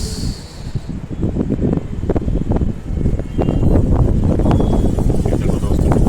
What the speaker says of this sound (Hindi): ये देखो दोस्तों, कितनी तेज हवा चल रही है।